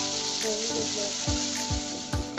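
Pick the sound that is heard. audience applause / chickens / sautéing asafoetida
sautéing asafoetida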